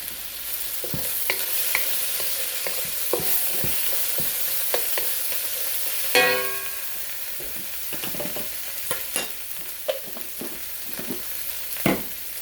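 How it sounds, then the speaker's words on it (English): Chicken with lemongrass and ginger sautéing in a pan, giving a constant hiss of frying broken by scattered spatula scrapes and taps, close and clear. "So as we saute it, it looks really good."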